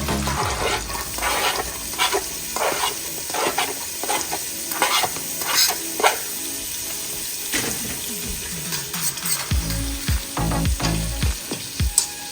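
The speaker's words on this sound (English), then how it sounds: "now I'm going to add in my onions" Onions frying for curry rice, a steady close sizzle in a pan broken by repeated stirring scrapes and clacks of a utensil throughout, with no talking.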